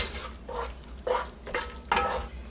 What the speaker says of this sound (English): Stir that in to get it combined.